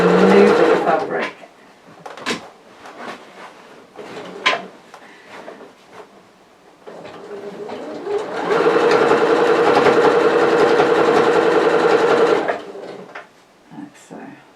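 Sewing machine stitching apron fabric up close, short clicks and stops giving way to a sustained run of steady whirring, with a voice talking over parts of it.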